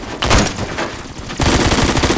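Rapid bursts of gunfire from a Roblox shooter game, a dense automatic rattle that pauses briefly and then resumes loud and close for the rest of the clip.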